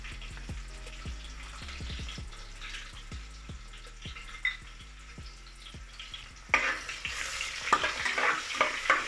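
Mustard seeds and chopped onion frying in a pan for pea pulao, with a steady sizzle, regular stirring knocks and scrapes throughout, and a louder, brighter crackle burst near the end.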